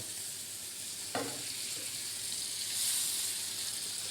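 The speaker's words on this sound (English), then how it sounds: "we're going to put some nice fresh butter in there to keep this wonderful, nice, fresh foam, prevent the oil from burning" Veal sizzling in a pan with generous fresh butter and oil over high gas heat, a steady close frying hiss that swells briefly near the end, with a short clatter partway through and no talk.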